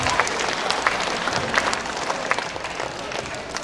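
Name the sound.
audience applause at school graduation ukulele performance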